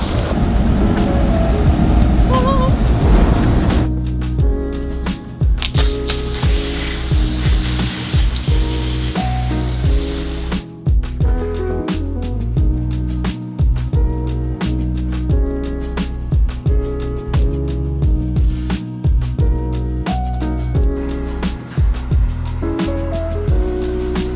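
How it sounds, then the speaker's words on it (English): Automatic car wash running loudly around a car, with heavy water spray drumming on the body, a hissing rush, then rapid clattering and thumping from brushes and jets, continuous and close throughout. "Loud car wash."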